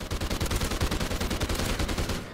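Rapid automatic gunfire in the video game Call of Duty Ghosts, a dense burst of loud shots in quick rhythm lasting about two seconds before cutting off.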